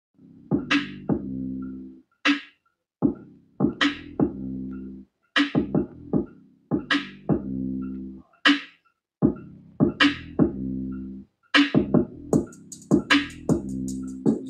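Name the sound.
song played through a Bluetooth amplifier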